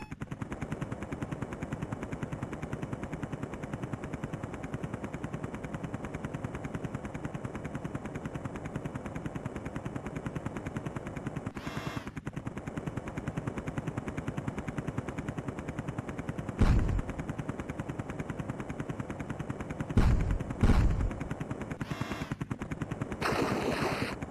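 Sparse game gunfire from the Amiga helicopter game Zeewolf 2, a few short bursts around the middle and near the end over a steady engine-like drone, with no talk.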